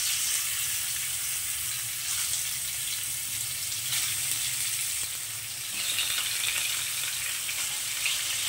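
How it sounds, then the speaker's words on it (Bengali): Fish pieces frying in hot oil in a wok, a loud, close, continuous crackling sizzle with faint stirring scrapes and no voices. "এখন আমি মাছগুলোকে ভেজে নেব"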